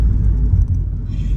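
A car's engine rumbles low and steady from inside the cabin while driving, a constant deep drone with no voices.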